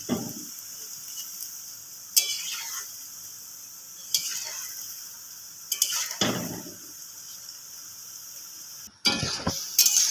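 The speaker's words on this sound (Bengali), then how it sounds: "এভাবে অনবরত নেড়ে নেড়ে ভাজতে হবে, নয়তো এক দিকটা পুড়ে যাবে" Khejur misti sweets deep-frying in hot oil give a steady hissing sizzle, broken every couple of seconds by a utensil scraping and clinking against the pan as the sweets are turned.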